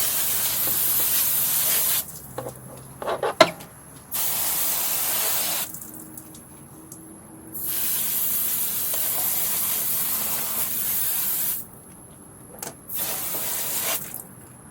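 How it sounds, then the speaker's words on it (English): A garden hose sprays water onto the wheel of a Genesis Coupe during a Brembo rotor and pad swap. Loud, close hissing comes in several bursts with short quiet gaps between them. "Now I'm going to grab a hose."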